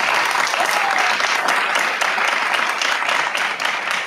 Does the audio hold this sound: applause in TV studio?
yes